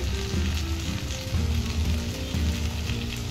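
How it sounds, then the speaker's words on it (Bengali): Tomato sautés in a covered pan for a raw banana kofta curry, giving a loud, continuous sizzle and crackle with a low hum underneath and no voices. "এবারে চাপা দিয়ে টমেটোটাকে একটু কষিয়ে নিতে হবে।"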